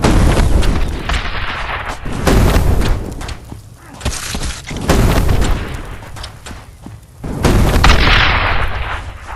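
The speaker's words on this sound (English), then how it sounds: "And then you have your fire grenade." A fire grenade exploding in Citadel: Forged with Fire, heard as three loud booming bursts a few seconds apart, each with a heavy low thump and crackling tail, close and prominent.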